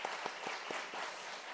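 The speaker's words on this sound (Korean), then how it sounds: "박수 한번 해주세요." A church congregation at a Wednesday worship service breaks into brief applause, a quick burst of claps in a fairly regular rhythm, close and fading out after about a second.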